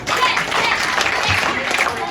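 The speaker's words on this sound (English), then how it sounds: "Please clap for him." A classroom audience claps for a student, a dense, steady patter of many hands at moderate distance lasting about two seconds, with voices mixed in.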